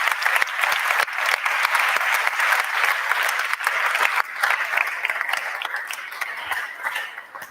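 Audience applause at an incubator final event, a full, even round of clapping that holds strong for several seconds before easing slightly toward the end.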